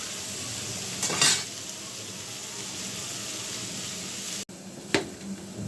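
Small puti fish frying in a pan on a gas stove with tomato, a steady soft sizzle broken by a couple of brief stirring scrapes and utensil clinks.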